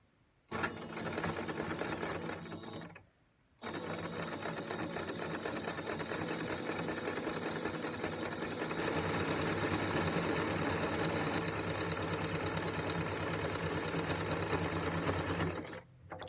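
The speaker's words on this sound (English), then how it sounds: "Head back to your sewing machine." Sewing machine running a zigzag stitch through fabric, a fast, even mechanical whirring chatter that runs in long bursts with short pauses near the start and end, close and steady.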